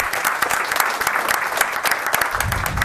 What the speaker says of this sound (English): Another round of applause for Elise.